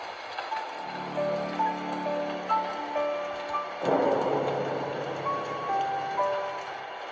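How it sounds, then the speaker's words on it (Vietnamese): Rain falls steadily outside in the 2D horror game Slendrina 2D, a continuous hiss under rumbling thunder, with tonal game music notes sounding over it. "Ngoài trời thì đang mưa."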